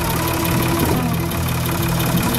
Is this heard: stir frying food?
no